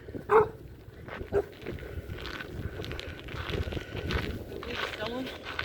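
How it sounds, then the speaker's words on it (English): A dog gives two short sharp barks early on, moderately close, amid footsteps and people talking, in winter blizzard conditions in Texas. "Dog."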